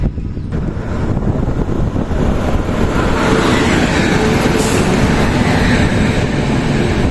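Duronto Express running between Pune and Hazrat Nizamuddin rolls past up close, a loud, continuous roar of wheels and rushing air with heavy wind buffeting, steady throughout with no voices.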